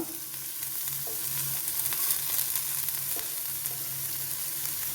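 Sliced onion frying in a very hot pan, a steady broadband sizzle with occasional crackles and pops running evenly through the whole stretch, close and moderately loud, with no talk over it.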